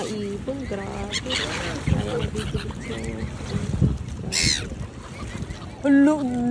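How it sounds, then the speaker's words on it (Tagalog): Swans and other birds call and honk at a feeding spot by the water, a busy mix of near and farther cries with short bursts, plus a loud honk near the end, with wind and boat-like noise underneath. "Bilis ng mga ibon, grabe."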